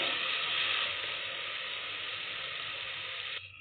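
Curry leaves with ginger garlic paste sauté in a hot pan for a tomato rice dish, giving a steady close hiss and crackle of sizzling oil that holds evenly throughout, with no voices.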